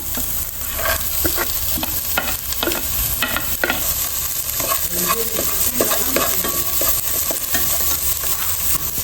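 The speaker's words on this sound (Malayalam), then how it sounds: "ഇനി നമുക്ക് നെക്സ്റ്റ് അരിഞ്ഞു വെച്ച ബീൻസും ക്യാരറ്റും മൊത്തത്തിൽ ഇട്ട് കൊടുക്കാം" Chopped beans and carrots stir-fry in a hot pan for chicken fried rice, giving a steady loud sizzle with repeated scraping and stirring clatter throughout, no voices.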